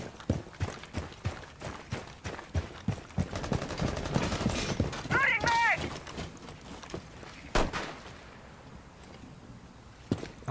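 Gunfire in the Rainbow Six Siege video game, including a shotgun breaching a door: a rapid series of sharp shots and bursts in close succession, with a person talking over the action.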